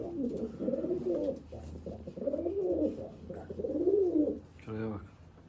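Several Jumbo pigeons coo in low, rolling phrases close by in a coop of eight to ten birds, repeating in waves, with a brief human voice near the end.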